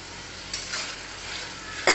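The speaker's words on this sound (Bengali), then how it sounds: "এইভাবে মশলাটাকে ভালো করে ভেজে নিয়ে তারপরে মাংস দেবো।" Spice mix for chicken biryani fries in a pot, a soft steady sizzle with a spoon stirring and a sharp clink of metal at the end.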